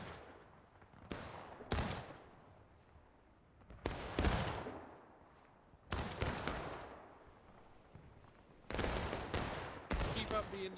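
Musket volleys from independent fire in a Civil War battle game crack out in repeated bursts, each sharp report followed by a fading roll, with clusters of overlapping shots loud and near, some more distant.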